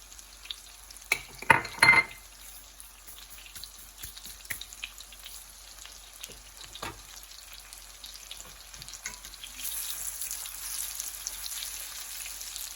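Plantains with brown sugar and butter cooking over medium heat in a pan, a quiet bubbling sizzle with scattered pops and a couple of louder clatters near the start, growing slightly denser toward the end.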